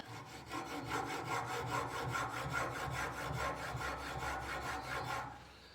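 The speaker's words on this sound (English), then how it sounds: "I'm going to cut this off with a hacksaw" A hacksaw cuts off a turned wooden workpiece from a woodturning project in quick, even back-and-forth strokes, about four per second, rasping close and clear for several seconds before stopping.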